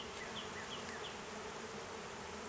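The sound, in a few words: honeybees buzzing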